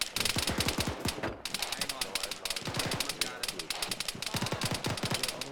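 BTR armored vehicle firing its machine gun in a military video game, rapid bursts of sharp automatic gunfire rattling loudly and almost continuously with only brief pauses, close and dominant.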